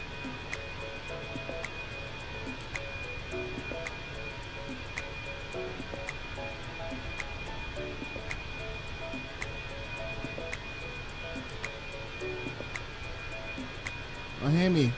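Fenix A321 airliner engines in a flight simulator game give off a steady jet whine and rumble that holds even throughout, with a sudden louder swell right at the end.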